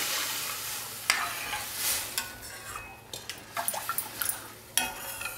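Warm full-fat milk goes into roasted rice in a pan for rice kheer, a soft hiss and gurgling pour followed by light scrapes and clinks of a utensil against the pan, close by and with no talk.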